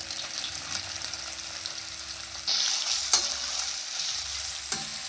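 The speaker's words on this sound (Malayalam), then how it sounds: "ഇഞ്ചിയുടെയും വെളുത്തുള്ളിയുടെയും പച്ചമണം പോകാൻ വേണ്ടിയിട്ട് നമുക്ക് ലോ ഫ്ലെയിമിൽ 1 മിനിറ്റ് നന്നായിട്ടൊന്ന് എണ്ണയിൽ വഴറ്റി കൊടുക്കാം" Crushed ginger and garlic sauté in oil over a low flame for a Kerala-style chicken curry, a steady close sizzle broken by a few stirring scrapes, with no talking.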